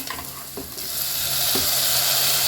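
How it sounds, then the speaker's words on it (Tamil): Tomatoes sauté with onions in a frying pan, a loud, close, steady sizzle that swells after a couple of quick stirring knocks, with no speech. "இந்த தக்காளி வந்து நல்லா வதங்கி வரட்டும்"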